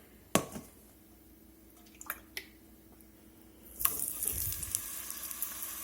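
Beef short ribs go into a hot pot, where a few clunks and taps are followed by a sudden loud sizzle of searing that keeps crackling steadily close by.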